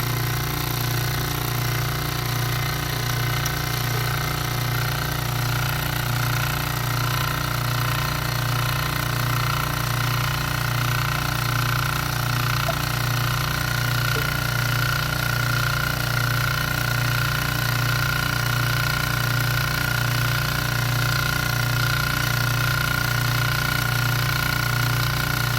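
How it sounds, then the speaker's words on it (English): A vacuum pump hums in a steady, continuous drone throughout a total suspended solids filtration in a lab, with no break in the sound. "Turn the pump on"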